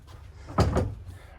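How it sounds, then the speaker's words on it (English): Sliding pocket doors inside the bunkhouse of a 2024 Keystone Passport 3401QD travel trailer are bumped into, giving two quick, close wooden knocks over quiet room tone. "Running into the pocket doors there because I'm not paying attention to what I'm doing."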